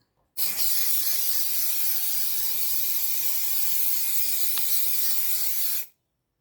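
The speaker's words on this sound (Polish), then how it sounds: "jeszcze wstrząchnę spray i psikamy" An aerosol spray can mists fixative over a finished coloured-pencil drawing beside an open window, one continuous loud hiss lasting about five seconds that starts and stops abruptly.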